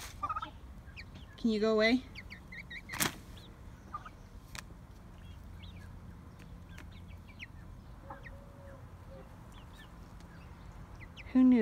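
Turkeys in a garden give a few scattered gobbles and clucks at close range over a quiet outdoor background, and a person speaks briefly near the start.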